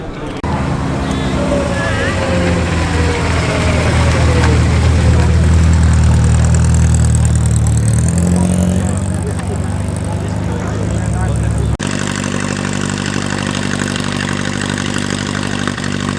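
A Morris Cowley special classic car idles and revs close by at a heritage motoring meet, a steady low engine drone with rising revs, cutting off near twelve seconds to a quieter rumble behind background voices.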